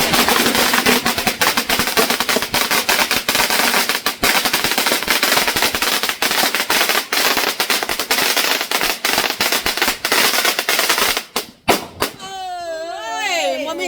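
A long string of firecrackers explodes in rapid, dense bursts of loud cracks and pops for about eleven seconds, then stutters out into a few scattered bangs before shrill tones and background voices take over.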